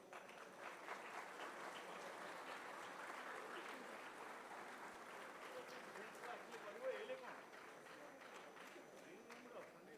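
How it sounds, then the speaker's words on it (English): An audience at a chess conference gives a long round of applause to arriving chief guests, a dense, sustained clatter of many hands filling the hall at an even level, with faint voices mixed in. "with a huge round of applause"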